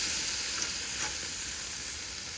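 Shrimp and bacon frying in a pan at a campsite, giving a steady, close, broadband sizzle that stays even throughout with no talking.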